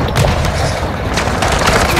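Rapid bursts of decoy grenade gunfire pop and boom in Modern Warfare 2 third-person Moshpit play, loud and close, in quick irregular succession over busy game noise.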